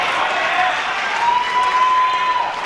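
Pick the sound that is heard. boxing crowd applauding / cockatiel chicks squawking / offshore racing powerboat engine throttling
boxing crowd applauding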